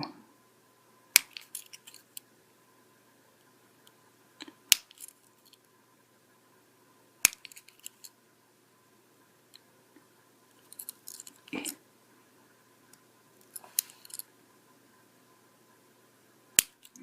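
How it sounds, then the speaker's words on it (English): Scissors snipping through cardboard finger tabs on a homemade dinosaur costume hand, heard as sparse, sharp individual clicks and crunchy cuts spaced seconds apart against near silence. "you're going to have to cut each of those fingers. Just like so"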